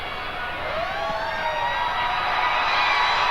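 Siren sounding at a 1998 rugby league match between Manly and Parramatta, a rising wail swelling out of steady crowd and broadcast noise, growing slightly louder toward the end.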